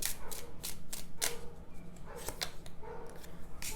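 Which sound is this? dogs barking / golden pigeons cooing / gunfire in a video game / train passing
dogs barking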